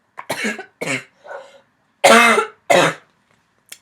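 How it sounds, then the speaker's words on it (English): A series of harsh coughs and throat-clearing bursts, close to the listener, coming in uneven clusters with short silences between them. "I'm still fighting a cough."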